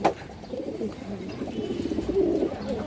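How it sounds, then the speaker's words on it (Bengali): A female pigeon coos softly in a low, rolling, repeated murmur, close by and fairly quiet, with no talking over it. "খুব সুন্দর একটা মাদি কবুতর"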